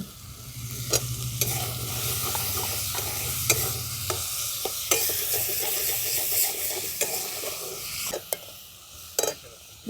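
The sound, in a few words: potatoes stirred and fried with onions in a pan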